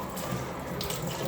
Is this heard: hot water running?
yes